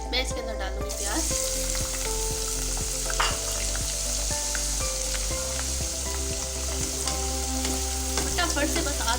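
Onions frying in hot oil with heated whole garam masala for a chicken biryani, making a loud, continuous sizzle that holds steady throughout, with faint stirring and no speech.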